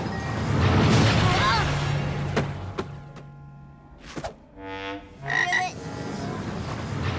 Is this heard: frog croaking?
yes